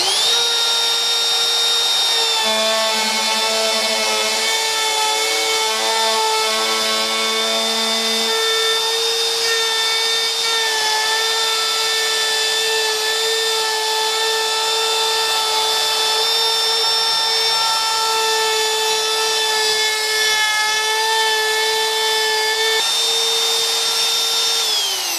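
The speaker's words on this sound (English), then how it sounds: "This is just a simple jig with a router." A router on a simple jig cuts flutes into a wooden workpiece mounted on a woodturning lathe, giving a steady, loud high-pitched whine that runs continuously throughout with slight shifts in pitch as it cuts.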